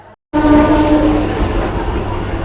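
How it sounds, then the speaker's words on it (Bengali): An inaugural special train pulls out of Maynapur railway station in Bankura toward Jayrambati. A loud, close, continuous rumble of rolling wagons is led by a sustained horn tone at the start. "ময়নাপুর রেল স্টেশন ছেড়ে জয়রামবাটি বাঁকুড়া উদ্বোধনী ইনোগ্রাল স্পেশাল ট্রেন এখন ছুটে চলেছে"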